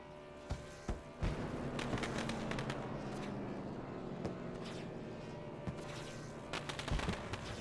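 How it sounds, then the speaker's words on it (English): Fireworks at Bristol Motor Speedway, distant booms and crackling pops scattered over a steady crowd and ambient roar, moderately faint. "So the fireworks going off here at Bristol Motor Speedway"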